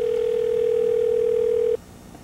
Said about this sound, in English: Let's see if she's going to answer the phone.